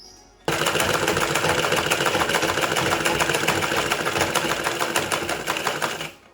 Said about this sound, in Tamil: இந்த சைடை தைச்சிடலாம்